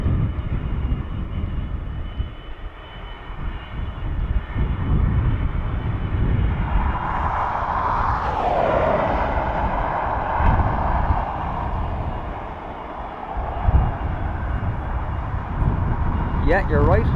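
A Lufthansa airliner arriving from Frankfurt at Dublin airport, a sustained engine roar with a whining tone rising and sweeping midway, while people chat over it.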